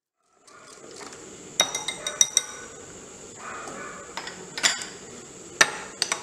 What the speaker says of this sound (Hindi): ये अच्छे से हमने क्रीम को जो है बीट कर लिया